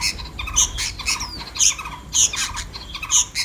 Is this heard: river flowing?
no